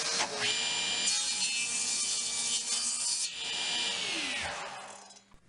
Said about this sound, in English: Now we've got to cut this back side.